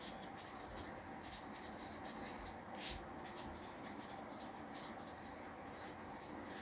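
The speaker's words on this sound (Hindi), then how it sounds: "हम नीचे लिखेंगे" A pen scratches steadily across paper in short rhythmic strokes, close and continuous, while a voice talks over the writing.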